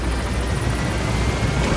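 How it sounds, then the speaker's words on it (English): A helicopter in Metal Gear Solid V gives a steady, loud rotor-and-engine roar with continuous broadband thrumming and no talk over it. "She'll jump up and join us on the helicopter."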